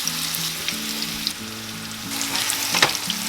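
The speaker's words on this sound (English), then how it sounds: "So all the fish is frying." Hot oil sizzles and crackles steadily as fish fries in a pan for fish curry, a close, continuous hiss with occasional sharper pops.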